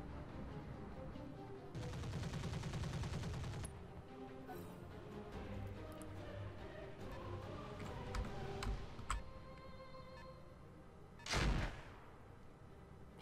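Mech weapons fire in a video game battle, with a sustained burst of rapid gunfire, scattered sharp shots and ticking, and a loud blast near the end, all fairly faint.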